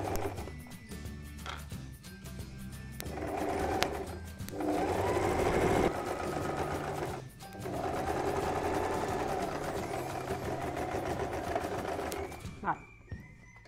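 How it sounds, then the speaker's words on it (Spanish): Domestic sewing machine stitching fabric for a baby travel changing mat, a steady close whir running in long stretches with a brief pause at a corner pivot, while someone talks over it. "giramos y seguimos cosiendo"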